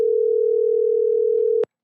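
A telephone ringback tone sounds while a call connects: one loud, steady tone with a slight pulsing that runs for over a second and then stops sharply, leaving silence.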